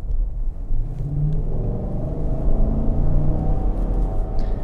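A Chevrolet Tahoe's 6.2-litre V8 rumbles at a steady low idle with a slight swell in revs, deep and close, with no talking.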